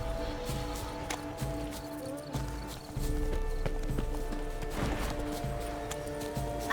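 Rhythmic clip-clop of horse hooves trotting in The Witcher 3, steady and close under a layer of ambient game music, hoofbeats growing a bit heavier later on.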